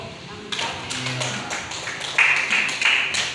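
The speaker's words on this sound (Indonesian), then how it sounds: "tepuk tangan dulu dong" Clapping from a small classroom group of teachers at a positive school culture session, a run of sharp taps after a quiet start, with voices talking alongside.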